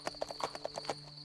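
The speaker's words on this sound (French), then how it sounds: "Cours, cheval!" Galloping horse hooves beat out a quick, steady clip-clop rhythm, close and distinct, over a faint constant tone, with no voices.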